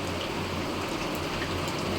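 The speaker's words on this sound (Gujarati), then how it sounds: "બહુ મસ્તીનો વરસાદ ચાલુ થઈ ગયો." Steady monsoon rain falls on a village courtyard in Gondal taluka, a dense continuous hiss that is loud and close and holds unbroken with no talking.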